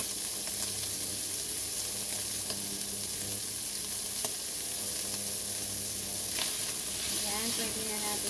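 Shrimp and egg stir-frying in a pan, a steady close sizzle with occasional scrapes of stirring, continuous and moderately loud with faint background hum.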